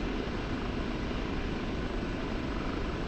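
Kiowa Warrior helicopter in DCS flight simulator, a steady broadband engine and rotor roar filling the whole stretch at constant loudness, no voices.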